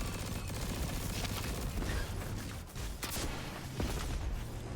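Rocket launcher fire and explosions in a hunter-build shooter video game, a dense continuous barrage of blasts and booms with a sharp strike around the middle, loud and unbroken.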